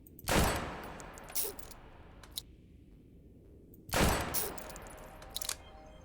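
Gunfire from the Maggie gun in the cyberpunk roguelike Phantom Proxy comes in two loud, sharp bursts a few seconds apart, each trailed by smaller clicks and mechanical reload sounds in a quiet gap.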